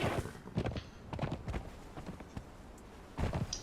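A video-game horse ridden while carrying a captured thrall gives rapid hoof clip-clops in uneven bursts, moderately loud and close, with brief pauses between runs of steps.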